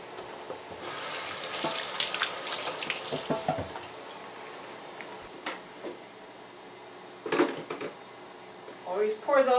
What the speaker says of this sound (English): Always pour those away from you so that if it does splash hot water, you're not getting splashed.